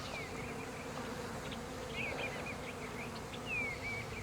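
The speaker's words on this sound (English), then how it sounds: "Nurse bees will stay on the comb, tending to the larvae." Honey bees hum steadily on the brood comb, with nurse bees tending larvae inside the hive; the drone is close and continuous, with faint higher chirps and whines drifting over it and no voices.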